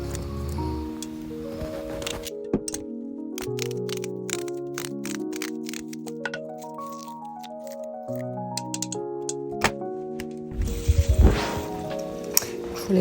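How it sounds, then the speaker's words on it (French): Onions being chopped quickly with a knife, a run of sharp, regular chopping clicks heard under steady background music, ending in a louder burst of clatter. "Je découpe rapidement les oignons."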